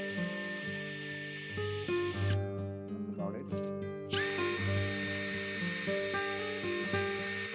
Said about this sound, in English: It needs to heat up a bit before you actually get rouge onto this buffing wheel.